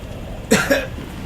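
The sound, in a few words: cough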